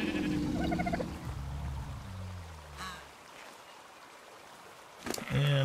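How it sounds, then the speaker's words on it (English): Sheep bleat in the ARK video game: a wavering bleat opens the scene, then fades to quiet, and a second, louder bleat cuts in near the end, both sharp and close over a faint background hiss. "we'll get some more sheep going here"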